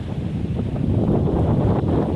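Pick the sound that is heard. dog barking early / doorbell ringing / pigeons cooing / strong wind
strong wind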